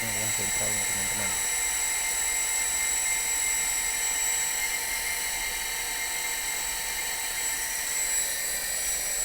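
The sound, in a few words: water pump motor running again after adjustment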